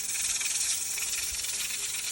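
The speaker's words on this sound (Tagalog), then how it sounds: "Prito kong daing na bangos. Prito kong isda." Dried milkfish (daing na bangus) and other fish fry in hot oil with a loud, steady, close sizzle and hiss that holds unbroken throughout.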